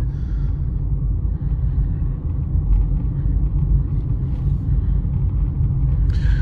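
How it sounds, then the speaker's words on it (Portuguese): A 2023 Citroën C3 Live Pack 1.0 petrol car cruises on the highway, heard from inside as a steady low rumble of road and engine noise, continuous and moderately loud. "O único barulho significativo do carro"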